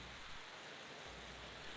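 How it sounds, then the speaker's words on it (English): Heavy rain pours down outside in a steady, dense hiss that fills the short stretch without pause, heard faintly and evenly with no voices over it. "It's raining really hard here right now."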